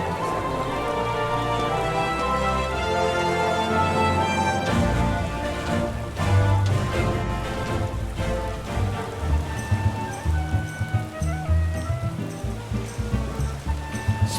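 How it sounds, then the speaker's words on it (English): Rain falling in the video game Final Fantasy XIV, a steady wash of drops under swelling orchestral music that continues throughout. "We're doing this all in the rain."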